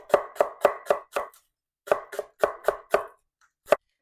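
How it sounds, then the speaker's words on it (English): A knife chops mint and green onion on a board in two quick bursts of crisp, evenly spaced thuds, five then five more, followed by a single final chop, close and clear with no talking. "you want to chop them up into small pieces"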